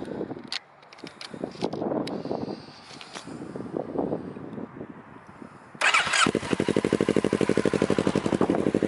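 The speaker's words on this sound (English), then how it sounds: "So here is a startup of the exhaust." A Kawasaki Z650 motorcycle with a loud aftermarket exhaust cranks and fires up with a sudden loud, throaty burst, then settles into a rapid, rough, pulsing exhaust rumble.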